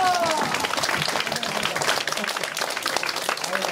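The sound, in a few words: audience clapping and applause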